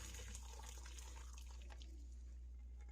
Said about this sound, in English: I'm just gonna pour everything right through that strainer